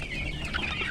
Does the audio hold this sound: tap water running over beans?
no